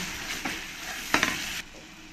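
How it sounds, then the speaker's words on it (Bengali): Koi fish sautéing in a pan with turmeric and salt, a steady close sizzle with two brief scraping stirs, the second louder, and no voices. "1 চামচ হলুদ আর 1 চামচ লবণ দিয়ে ভালো করে আমি কষিয়ে নেব"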